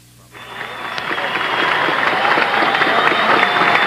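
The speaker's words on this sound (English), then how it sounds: "All of these youngsters are on their feet, clapping just as hard as they can." A large crowd of youngsters on their feet applauds President Kennedy, with the clapping swelling quickly into a loud, steady roar.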